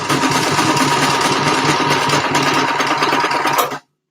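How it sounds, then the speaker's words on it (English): A sewing machine stitches a leotard in a steady, fast mechanical whir that runs loud and close without pause for nearly four seconds, then cuts off abruptly. "I love sewing. It is relaxing."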